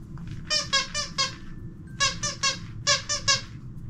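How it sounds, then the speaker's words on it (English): A squeaky dog toy squeezed rapidly in three quick bursts of sharp, high squeaks, close and clear over a low background rumble. "one of my doggies found out that I have a squeaky toy."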